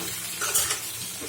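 Sweet pumpkin pieces with onion, garlic, salt and turmeric frying in a pan: a short burst of sizzling with a couple of quick spatula scrapes, close and fairly loud, no voices.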